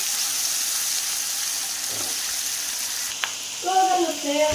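Chicken frying in a pan for white karahi, a steady even sizzle close by with a single sharp tap, then a brief burst of running water and clatter near the end.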